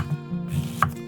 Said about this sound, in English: Dice the red onion.